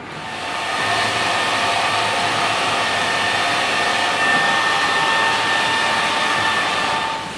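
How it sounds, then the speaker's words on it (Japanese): A hair dryer runs loud and close as hair is dried after a tight spiral perm in a salon. It gives a continuous, even blowing roar for the whole stretch, rising at the start and easing slightly at the end, with no one talking. "これで、乾かして仕上げていきたいと思います。"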